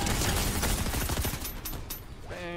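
Rapid gunfire in Fortnite, a dense burst of loud, close shots filling the first half before thinning out into fainter game noise.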